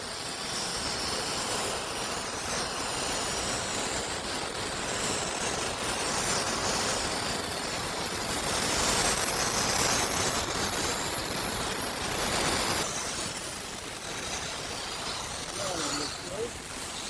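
Sandblaster driven by compressed air blasting log walls, a loud continuous roaring hiss that stays steady throughout with slight swells, close by and with no speech over it.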